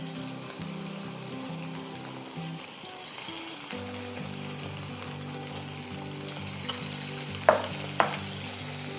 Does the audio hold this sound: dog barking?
no